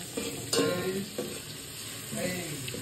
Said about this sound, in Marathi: मस्त बाई चाललंय आता फोडणी द्यायला